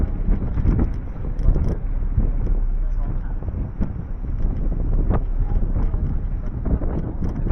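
Heavy wind buffeting and a low, constant rumble come from aboard the Spirit of Queenstown, a paddle-wheel cruise vessel moving on a lake near Queenstown. The sound is loud and steady throughout, with no clear talk.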